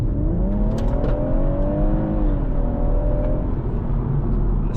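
A BMW M140i accelerates hard, heard from inside the cabin: a loud, steady engine drone rising in pitch through the revs with a brief dip like a gear change, continuous road and wind roar underneath, no talking.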